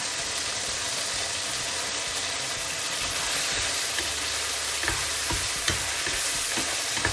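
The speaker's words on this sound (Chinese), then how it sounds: "将甜面酱和肉翻炒一下" Pork stir-fried with sweet bean sauce gives a steady, close sizzle of frying with scraping stir strokes over a low background hum, and no one speaks.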